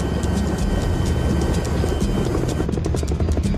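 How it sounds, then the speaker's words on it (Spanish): A helicopter carrying actors flies in the sky. Its loud, steady thudding rotor chop and engine drone fill the whole stretch close by, and faint voices sit beneath. "Realmente los actores están montados en un helicóptero en el cielo."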